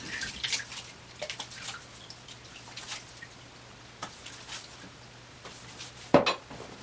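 Water splashed by hand onto a face before a wet shave, a series of soft, irregular splashes and drips, quiet and close, with a sharper knock near the end.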